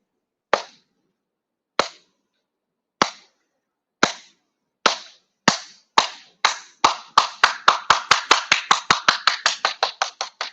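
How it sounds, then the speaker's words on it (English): A group solidarity clap in unison, starting as single loud claps spaced over a second apart, then speeding up steadily into a rapid, louder run of claps. No talking. "So we're going to do the solidarity clap together."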